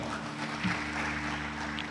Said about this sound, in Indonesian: Beri tepuk tangan buat nama Tuhan.